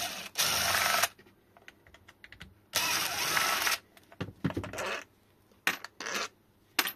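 Power tool unscrewing the casing screws of a Freego 36v battery pack, two bright sustained whirring bursts of about a second each, separated by quieter clicks and handling noises, close by.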